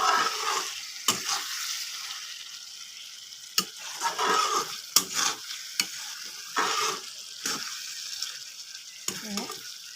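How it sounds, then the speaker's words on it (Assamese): Meat fries in oil in a pan for Assamese banana-flower (koldil) curry, loud sizzling bursts and scraping stirs coming in irregular strokes, with quiet gaps between them. "মই আকৌ 10 মিনিটমান প্ৰায় ভাজি ল'লোঁ মাংসখিনি"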